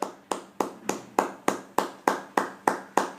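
A congregation claps in unison to accept a prophecy, about ten crisp, evenly spaced claps at a brisk steady beat, close and fairly loud with no speech.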